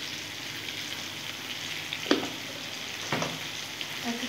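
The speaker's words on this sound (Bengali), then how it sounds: "পেঁয়াজটা তাড়াতাড়ি ভাজা হয়ে যাবে" Onions sizzle steadily in oil with salt added, a close, even hiss with a couple of faint spoon scrapes and no talk.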